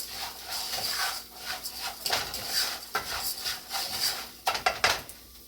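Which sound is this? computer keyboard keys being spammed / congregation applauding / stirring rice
stirring rice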